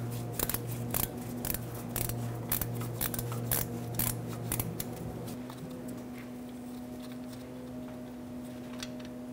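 A 13mm wrench works loose a serpentine belt tensioner bolt on a 2013-2020 Nissan Pathfinder 3.5L V6, giving a run of sharp, close metallic clicks and ticks over a steady low engine-bay hum, with no talking.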